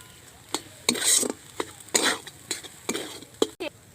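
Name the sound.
stirring semolina and potato mixture with cumin powder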